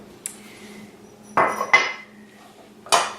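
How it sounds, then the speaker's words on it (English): A spatula scraping very soft butter from a container, a few short scrapes and knocks against the rim, close and clear in a quiet kitchen. "grab a spatula to get my really soft butter out of here"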